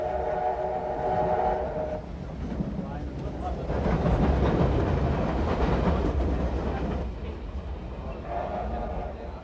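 Steam locomotive 3801, the Newcastle Flyer, running with a steady rumbling chuff and rail noise, a whistle-like tone sounding at the start and again near the end, under a narrating voice.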